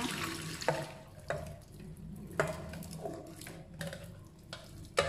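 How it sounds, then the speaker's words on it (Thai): Water poured off boiled rice vermicelli noodles into a kitchen sink, a run of splashing and trickling with several sharp splats and clatters, close and fairly quiet. "พอร่มนุ่มเราเทน้ำทิ้งนะคะ"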